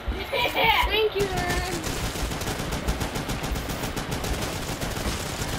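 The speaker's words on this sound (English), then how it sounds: "Automatic shotgun." Automatic shotgun fire in Call of Duty Black Ops III Dead Ops mode: a rapid run of booming game shots fired continuously, with young voices talking over the start.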